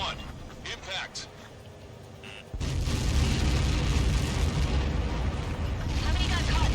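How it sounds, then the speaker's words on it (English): In the combat flight game Ace Combat 7, a huge blast erupts after faint radio chatter, a sudden deep boom swelling into a loud, sustained rumbling roar that fills the rest of the moment. "How many got caught in that explosion?"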